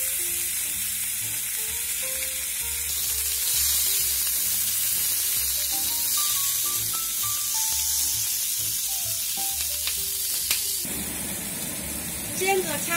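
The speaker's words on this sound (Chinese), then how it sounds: "文火慢慢煎，尽量多煎几面" Stuffed green peppers pan-fry slowly over low heat, giving a steady close sizzle and hiss that runs under soft background music and turns briefly louder near the end.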